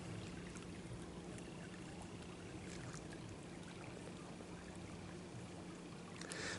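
A steady, broad rush of flowing water beside Cousintown Rd in Interlachen, Florida, constant and even throughout, heard from a short distance with no voices.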